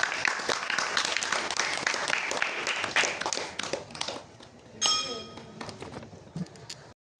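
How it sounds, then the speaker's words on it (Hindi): Audience applause at a science-themed Urdu poetry mushaira as the next poet is called up: dense, steady crowd clapping that thins out, with a few clinks and scattered claps near the end. "भरपूर तालियों के साथ।"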